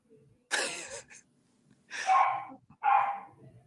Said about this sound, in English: your dog is pissed about something.